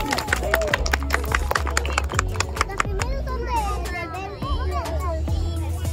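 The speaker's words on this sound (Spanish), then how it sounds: "¡Fuerte aplauso para las ganadoras categoría femenino!" Audience applause for the girls' category winners at a national MiniRoller speed skating championship for 5- and 6-year-olds, steady scattered clapping from a crowd throughout, with voices mixed in.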